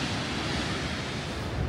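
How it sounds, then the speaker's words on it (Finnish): Waterfall pouring about 100 metres down beside a railed viewpoint on Madeira, a steady close broadband rush of falling water with no voices. "Siellä sen Maritan pään vieressä niin putous laskee vettä."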